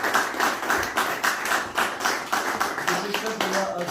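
Audience at a book signing clapping in a steady rhythmic burst of applause, moderately loud and close, lasting a few seconds.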